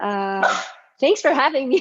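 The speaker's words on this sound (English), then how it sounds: "Sorry, that's my dog." A mini long-haired dachshund barks indoors during a live online chat: one sustained, harmonic bark-like yelp at the start, then people talking close to the microphone.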